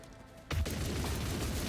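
Rapid weapon fire in a grimdark sci-fi shooter video game, the Officer Janus mission, erupts after a brief quiet lead-in: a loud, dense burst of fast repeating shots continuing steadily to the end.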